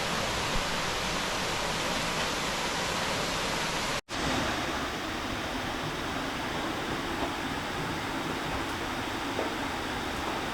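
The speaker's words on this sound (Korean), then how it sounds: "저 위에가 쌍용 폭포." A steady, loud rush of falling water from Ssangyong waterfall on Seoraksan, broken by a very short dropout partway through and otherwise unchanging, with no voices.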